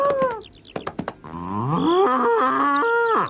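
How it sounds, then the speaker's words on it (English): A loose bull in a country lane lets out a loud, close moo, preceded by a few short grunting calls and then a long, rising, wavering bellow that fades out at the end. "It's Boomer the Bull. He's broken loose and he's in the lane."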